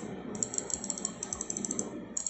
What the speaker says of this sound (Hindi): इस बटन पे क्लिक करने पे कुछ इस टाइप का साउंड आएगा,